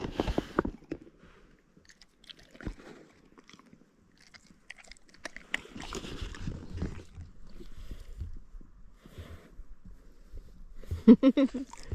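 Someone chews a last bite of food outdoors on a paddling trip, with intermittent soft crunches and mouth sounds between quiet pauses, a louder burst of crunching near the end.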